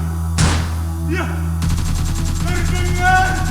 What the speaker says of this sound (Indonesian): suara serentetan tembakan